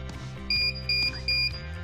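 Electronic beeps from the learn button of a Guardian model 928 side-mount garage door opener, three short high tones evenly spaced, with faint background hum.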